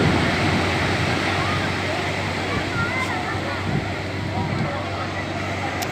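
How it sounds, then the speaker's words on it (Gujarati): Sea waves at Nagoa Beach in Diu roll in with a continuous loud surf wash and wind rush, steady throughout with no voices. "જો તમે દરિયાના મોજા તમે જુઓ."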